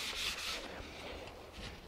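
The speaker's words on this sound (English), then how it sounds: "mid-coat sanding." Hand sanding of a finish coat on wood with 320 stearate sandpaper, a soft continuous scratchy rubbing with slight back-and-forth strokes, close and fairly quiet, with no talking.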